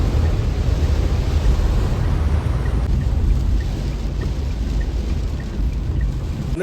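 Steady heavy rain roars continuously, a dense wash of noise with a low rumble underneath, no voices.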